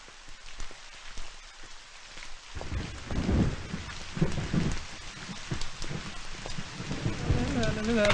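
Heavy rain falling in a movie scene, a constant wash of drops with rolling thunder rumbling in after a couple of seconds and repeating, loud and close, with no talking.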